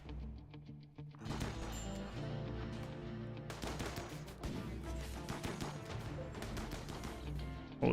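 Mortar shelling in the colony-sim game RimWorld, dense game audio of repeated blasts and crashing impacts layered over music, loud and continuous with sharp bursts throughout.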